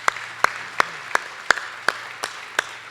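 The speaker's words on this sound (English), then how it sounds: "You can definitely clap for that." A single person claps slowly and evenly at a brewery event, eight crisp, well-spaced claps close by over a quiet room with a faint low hum underneath.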